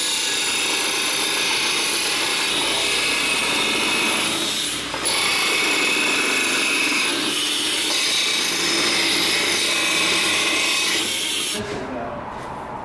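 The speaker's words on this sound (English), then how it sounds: "you just stick this here thing there in your disc sander" A disc sander grinds steel roll cage tubing for a Ford Explorer or Jeep XJ build. It gives a continuous loud abrasive whine and rasp that holds steady for most of the stretch, then cuts off abruptly near the end.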